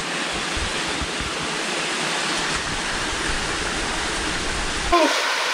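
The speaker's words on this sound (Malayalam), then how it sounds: "കാടിനടുക്ക് ഒരു അടിപൊളി വെള്ളച്ചാട്ടം" Waterfall near a forest at a hostel in Kanthalloor, Munnar: a loud, continuous broadband rush of falling water that stays steady before cutting away near the end, with no speech.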